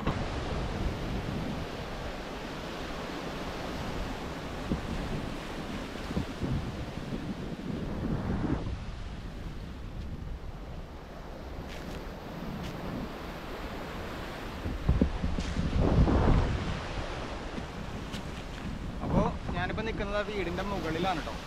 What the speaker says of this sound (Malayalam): ആ വെള്ളം തിരമാലകൾ വീണ്ടും വീണ്ടും കയറി വരുന്നുണ്ട് ഈ വീട്ടിലേക്ക്